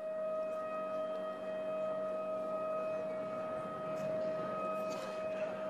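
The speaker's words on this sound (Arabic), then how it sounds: "الآن صفارات الإنذار مرة أخرى في مخيم جنين" Warning sirens wail across Jenin refugee camp during an Israeli raid, a steady, sustained tone carrying from a distance with no break over several seconds.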